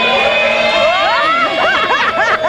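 A crowd cheers, shouts and whistles loudly in a TV studio control room at the start of a game show, a dense, continuous roar with rising and falling whoops, close and filling the whole clip.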